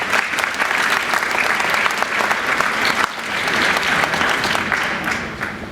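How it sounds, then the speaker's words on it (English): An audience applauding at a motivational talk after a book is awarded, with dense, even clapping sustained for the whole stretch, loud and unbroken, no voices over it. "Give me a nice applause."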